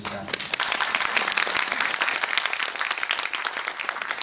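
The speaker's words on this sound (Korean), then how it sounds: "여러분 박수 한번 부탁드립니다." A cinema audience at a film screening Q&A claps together, a steady, dense wash of applause that stays loud and even throughout, with faint voices underneath.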